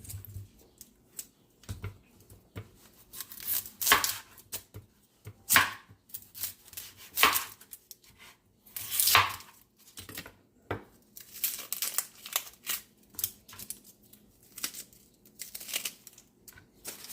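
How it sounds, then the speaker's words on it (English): Knife chopping peppers and onions on a cutting board, a close series of crisp irregular chops in short clusters with brief pauses between. "So we're gonna finish chopping these peppers and onions."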